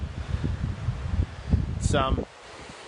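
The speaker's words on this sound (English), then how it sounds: "it's pretty windy" Gusty wind buffets the microphone on Sensation Beach at Coffin Bay National Park in South Australia, a close, low rumbling roar that cuts out abruptly near the end, with a person briefly speaking over it.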